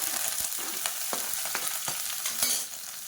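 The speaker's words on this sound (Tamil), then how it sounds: "வெங்காயம் நல்லா வதங்கிட்டு இருக்கு" Sliced onion sizzles in oil with whole spices and curry leaves, a continuous bright crackle with repeated scraping stirs and clicks of a ladle against the pan, close by and without any voices.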